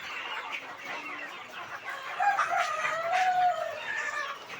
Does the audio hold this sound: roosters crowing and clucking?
yes